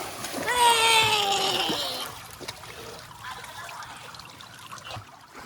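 Water splashes and trickles in a swimming pool on a hot summer day, close and continuous, with a voice talking loudly over the first couple of seconds before the splashing carries on alone.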